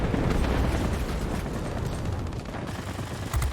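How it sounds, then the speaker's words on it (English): Bomb blasts and rumbling battle noise from the World of Warplanes air combat game, a loud, continuous low roar with crackling bursts filling the whole stretch and a fresh impact near the end. "Watch the bomb, so I go up."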